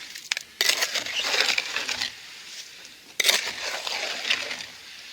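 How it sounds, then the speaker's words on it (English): Gritty scraping and crunching of wet, coarse material being churned, in two long bursts with a short pause between, close and fairly loud. "Get that water mixed in with that dry concrete there"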